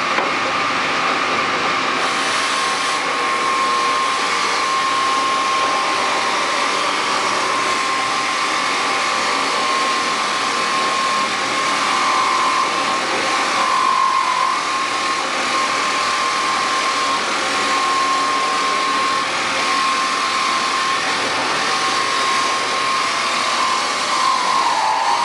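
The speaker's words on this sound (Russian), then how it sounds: "Ну и включаем, естественно, станок." A woodworking machine runs steadily along the grain of a wooden board, giving a continuous loud whirring drone with a sustained tone that holds throughout without pauses.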